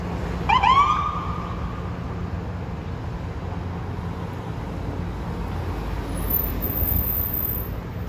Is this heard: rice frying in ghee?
no